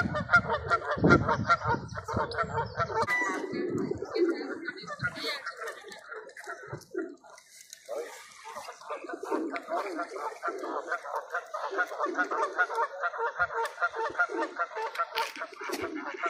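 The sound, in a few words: ducks calling and honking by a park lake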